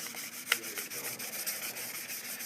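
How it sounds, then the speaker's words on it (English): Wet and dry sandpaper rubs over a Harley-Davidson tail light lens in quick, steady back-and-forth passes, a soft close scratchy swishing with one sharper scrape, heard alone. "you just make a couple of passes over it with some wet and dry sandpaper"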